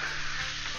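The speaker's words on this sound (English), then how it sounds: "Because they started sizzling and cooking the bottoms of them." Cookies fry in an oiled pan with a steady, close, bright sizzle that stays continuous and even throughout the brief moment, with no voices.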